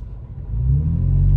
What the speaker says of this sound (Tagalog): Narinig nyo naman sa tunog ng muffler, no?